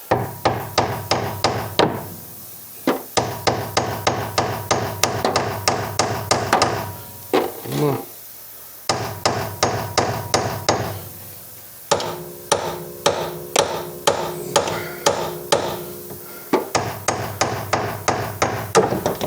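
Rapid metallic hammer blows knocking out a bolt on a Fiat 126p, in quick bursts of several strikes, with short pauses between bursts, loud and close.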